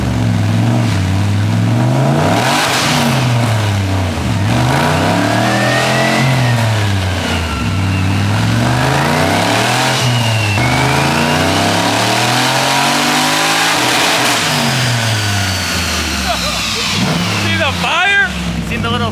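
An LS-swapped BMW E46 makes a dyno pull, its V8 engine rising and falling through repeated loud revs with a wavering pitch, close up, while voices talk over it.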